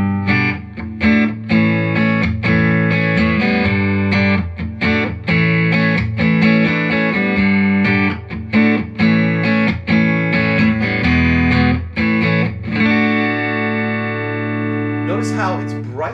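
An electric guitar played through a Fender Deluxe Reverb Tone Master amp at 12 watts with no pedals, only amp reverb, gives clean strummed chords in a rhythmic pattern, loud and close, ending on a ringing sustained chord.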